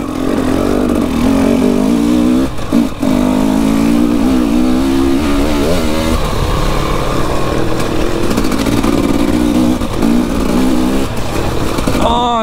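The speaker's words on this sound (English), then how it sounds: "it feels so nice to be back on the enduro bike" An enduro motorcycle riding on forest trails: a close, loud engine drone that holds steady, shifts pitch as the rider speeds up and slows down, with occasional revs and no break across the stretch.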